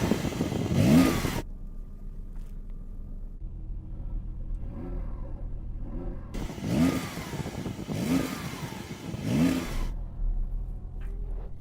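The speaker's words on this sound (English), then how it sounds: "Let's hear the Porsche, or try to, because that'll sound rubbish as well." Porsche 911 Turbo S engine revving while stationary, several loud rising bursts of revs separated by a steady low idle, close to the car.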